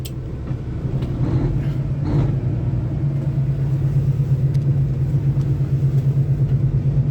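Company semi truck engine idling and rolling slowly through slow warm-up laps in a neighborhood, a steady low diesel rumble with a pulsing throb, continuous and close with no talk.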